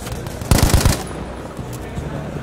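A short, punchy machine gun burst of about four rapid shots fires up close in Battlefield 5, followed by faint scattered battlefield noise and a voice speaking underneath.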